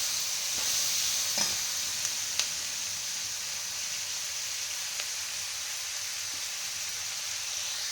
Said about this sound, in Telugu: ఇప్పుడు ముక్కలు కొంచెం బాగా వేగినాయి కదా